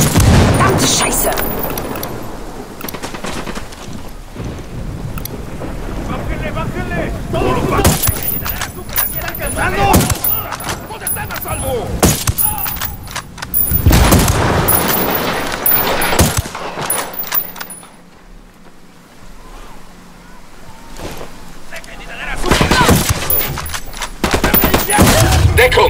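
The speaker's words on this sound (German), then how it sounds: "die Unidad schießt aufs Kartell" Bursts of gunfire crackle through a firefight in Ghost Recon Wildlands as Unidad soldiers shoot at the cartel, with loud shots and booms over the first twenty seconds, a quieter lull, then more shooting, while a voice talks over the action.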